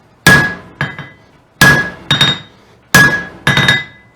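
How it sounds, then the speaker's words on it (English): Heavy hammer blows on a steel punch come in three pairs of two, each strike loud, close and ringing briefly before a pause. "Again, working with a heavy hammer."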